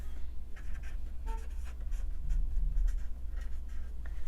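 A silver pen writes on a handmade Valentine's craft, quiet scratchy strokes and light taps of the tip on paper coming in short irregular bursts, close and faint, with no speech.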